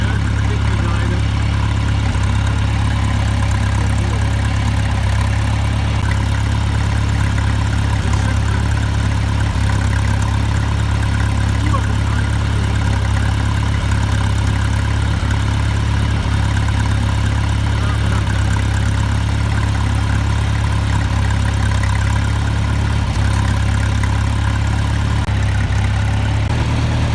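Farm tractor engine idling while feeding cattle hay bales, a loud, steady low rumble with a continuous hum that holds unchanged throughout.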